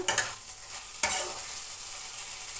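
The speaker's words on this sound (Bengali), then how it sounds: "ভাজা ভাজা হয়ে গেছে" Chicken pieces fry in a pan with a steady sizzle, broken by two sharp scraping stirs, one right at the start and another about a second later, close and with no voices.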